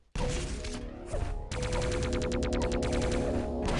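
Rocket launcher fire in an arena shooter match on a jump-pad map: a dense, loud stream of blasts and rapid pulsing impacts that runs almost continuously, with a brief dip before a busier burst of repeated hits.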